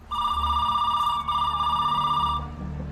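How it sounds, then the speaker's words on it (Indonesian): A telephone in a film rings with a continuous electronic trill held for about two seconds before it stops, loud and close, over a faint low background hum. "Gak lama Davis menelpon sang ibu lalu diberitahu bahwa ada polisi datang"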